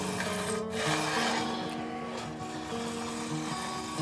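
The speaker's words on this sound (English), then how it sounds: "I like to work when I'm smoothing my fret wires." A hand file scraping back and forth along guitar fret wire ends, held vertically while smoothing them. It makes a steady, close, continuous rasp with faint tonal ringing underneath and no speech.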